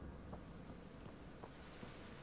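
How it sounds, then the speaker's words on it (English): Steady rain in the video game Mass Effect: Andromeda, a soft continuous hiss with faint scattered patters, low and constant throughout. "It's raining."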